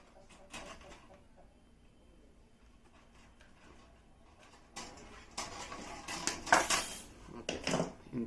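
Material cut by hand while making a carp fish feeder, heard as a quiet stretch followed by a series of sharp snips, crunches and handling clatters that grow louder toward the end, with a voice talking at times.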